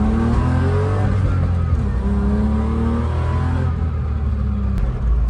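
A car engine revs and drops as the driver shifts from first to second gear through a cheap aftermarket short shifter, a steady, close mid-pitched drone with rising and falling tones and no talk.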